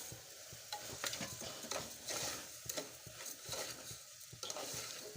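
Rice stirred in a pan with tempering for pulao, steady scraping and rustling with a light sizzle underneath, close and continuous with no talking.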